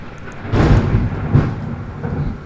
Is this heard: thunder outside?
yes